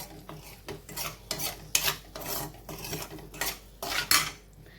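Spoon scraping and clinking against a pan while mustard sauce pasta with butter and salt is mixed, irregular rhythmic scrapes and metallic knocks, close and fairly loud, with no talking.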